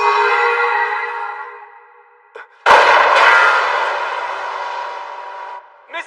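Weapons fire in an anime battle: a loud blast rings out and fades, then after a brief gap a second, sharper booming shot erupts with a long rumbling tail, ending in a small clank.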